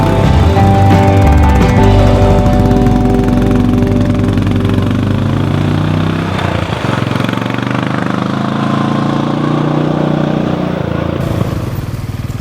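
Royal Enfield Classic 500 motorcycle engine running loud and close, a steady thumping single-cylinder rumble with rattling mechanical texture throughout, no voices.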